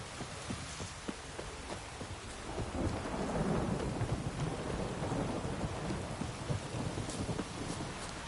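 A downpour in The Witcher 3 rolls with heavy rain and deep rumbling thunder, the dense hiss of drops swelling midway into a louder growl before easing slightly, with no voices.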